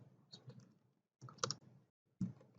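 Computer keyboard keys tapped out in three short bursts while entering a web address on a PC, the clicks quiet and close with pauses between groups.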